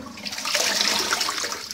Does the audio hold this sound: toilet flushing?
yes